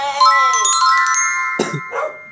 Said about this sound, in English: Excuse the dogs.